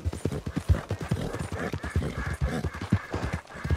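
Horse galloping in the video game Red Dead Redemption 2, with a fast, steady clip-clop of hooves close up and loud, running throughout.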